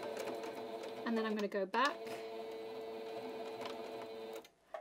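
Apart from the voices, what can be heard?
sewing machine stitching elastic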